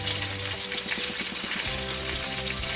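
Chicken browning in a hot pan for paella gives a loud, continuous close-up sizzle and crackle of frying, with no talk over it.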